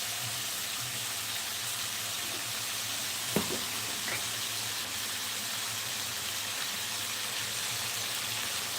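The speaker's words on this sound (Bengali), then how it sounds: "এবার এটাকে একটু ভেজে নেবো" Potatoes frying in a pan for a rohu fish recipe give a steady, moderate hiss with light crackling and one brief clunk partway through.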